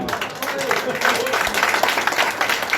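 Audience applause at a celebration, a dense wash of many hands clapping steadily throughout, with some voices mixed in.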